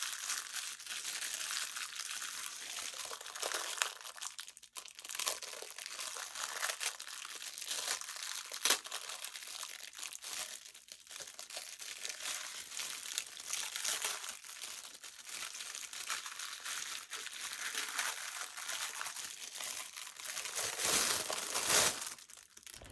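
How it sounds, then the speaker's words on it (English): A plastic bag wrapped around a pair of green gardening gloves is ripped and crumpled close up, with continuous crinkling and tearing that swells into a louder final rip. "I end up ripping it, so I just decide to rip the entire bag off."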